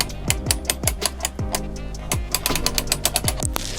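A hand crank turns, winding rope onto the bed lift in a campervan, giving a rapid, regular train of mechanical clicks and ratcheting ticks, close and fairly loud.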